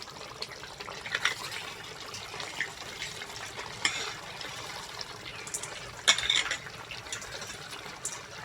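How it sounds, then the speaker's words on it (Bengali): Rice being washed by hand in a bowl of water for chicken pulao, giving soft continuous splashing and swishing with a few sharper sloshes, moderately quiet throughout. "চালটা হালকা হাতে ধুয়ে নেব।"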